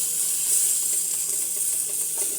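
Bhindi masala spices mixed with gram flour cook in a hot pan, giving a steady close sizzle and hiss with faint scraping of stirring throughout.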